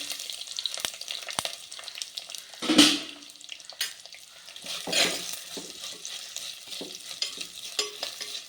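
Sliced onions sautéing in a pan for prawn biryani: a steady low sizzle with scraping and stirring, sharp utensil knocks, and a brief hiss or splash partway through.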